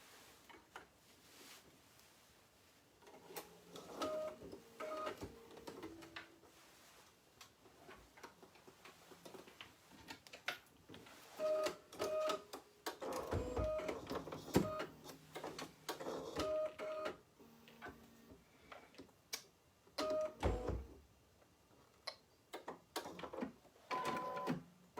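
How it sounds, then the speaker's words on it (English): An embroidery machine stitches a scarecrow's jacket and grass, a quiet, busy ticking and rattling with intermittent short tonal beeps and clicks, fairly close but low in level, with no voices. "we are going to use this to stitch out the jacket and the grass on our little scarecrow"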